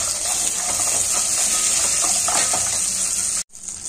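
Green chillies and curry leaves fry in hot oil for an Indian poha upma, a steady loud sizzle that runs continuously before cutting out abruptly near the end and then resuming.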